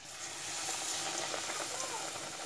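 Battered eggplant fritters (beguni) frying in hot oil, giving a dense, close crackling sizzle with fine bubbling pops that holds steady throughout, with a voice talking faintly underneath.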